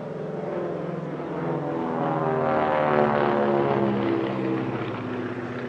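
A Beechcraft C-45 twin-propeller aircraft flies past at an airshow, its throbbing, buzzing engine drone swelling as it nears and fading slightly as it passes, alone with no talk.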